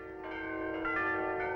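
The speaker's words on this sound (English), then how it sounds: "Listen, girls, the bells!" Bells peal steadily in a cartoon, a rich sustained ringing of church-type bells that swells slightly and holds for the whole moment with no voices.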